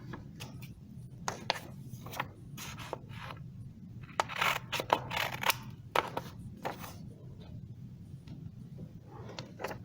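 Scissors snipping through orange paper to trim off two corners, a string of short crisp cuts and rubbing rustles, close and quiet, with no voices.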